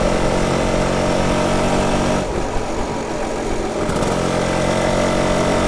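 A BSA Bantam 175 motorcycle engine running steadily out in the countryside, a loud continuous buzzing drone that dips briefly in the middle before returning to full strength.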